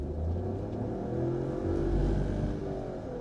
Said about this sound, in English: Now I have already slotted it in manual mode and in first gear and full kick down.